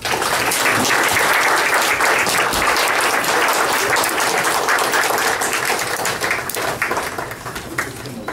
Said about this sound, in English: A wonderful round of applause to these new seniors who are here